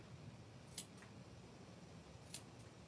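Scissors make two quick, faint snips through a paper stomp rocket base, cut diagonally, spaced apart over a quiet room hum.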